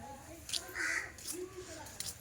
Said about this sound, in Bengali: আর সকাল সকাল উঠলে না, পাখির ডাকগুলো শুনতে কিন্তু বেশ লাগে